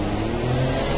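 Pagani Zonda in a racing video game, its engine a loud, dense roar close by, sustained for a moment without pause.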